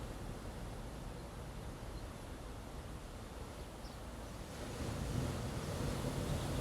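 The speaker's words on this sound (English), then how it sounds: "listening to the waves" Steady broadband wash of surf rolling onto shore, with wind noise on the microphone; the roar swells slightly louder near the end. No voices.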